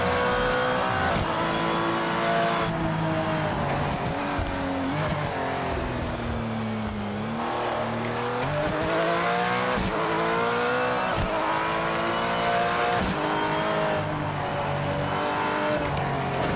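Race car engine in a VR racing game, droning steadily with pitch climbing and dropping through shifts and braking, tires squealing, continuous and loud, with no talk.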